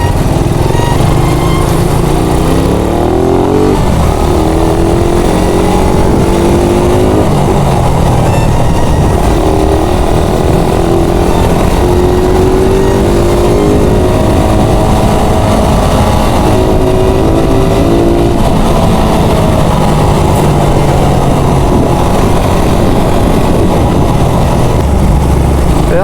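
A Suzuki Raider 150 motorcycle pulls away from a green light and accelerates, its engine note climbing through several gear shifts in a steady, loud drone with road noise throughout.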